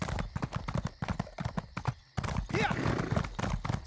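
A trained horse gallops in the Elder Scrolls Online video game, with quick rhythmic clip-clop hoofbeats close by, briefly broken by a pause and a whinny before the hooves resume.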